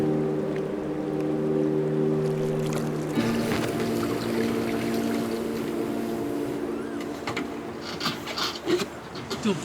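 A boat's engine drones steadily with a low hum that shifts pitch partway through on the open sea off Baffin Island, followed by splashing and knocking sounds near the end.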